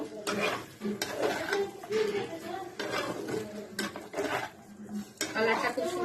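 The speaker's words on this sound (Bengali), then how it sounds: "দইটা আমি মাংসের মধ্যে দিয়ে দিলাম দিয়ে মাংসটা আবার ভালো করে নাড়িয়ে নেব" Chicken pieces and yogurt are stirred in a metal pot for a coconut water chicken dish, with repeated clanks and scrapes of a spoon against the pot, fairly close, with some voice in the background.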